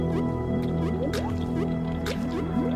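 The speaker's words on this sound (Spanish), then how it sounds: "Salpicamos. Eso suena fatal, ¿no?" Ink splashing in the video game INK: a run of wet, dripping splats and squishes over a steady background music bed, close and moderately loud.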